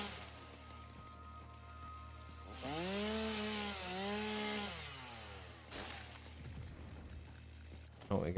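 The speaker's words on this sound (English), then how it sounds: "I'm always worried about using the chainsaw near those." In the video game Satisfactory, a chainsaw cutting trees revs with a loud whining drone for a few seconds, rising and dipping in pitch, then cuts off, with a low steady hum and a voice talking underneath.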